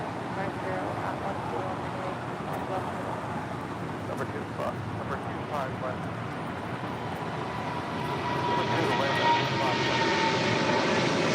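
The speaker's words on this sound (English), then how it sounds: "777 freighter now rolling down 25 left" A Boeing 777 freighter rolls down runway 25 left at LAX, its jet engines building from a low rumble into a louder, brighter roar toward the end, with a voice talking over it.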